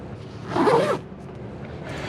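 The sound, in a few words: zipper pouches on Ford Bronco Sport seat backs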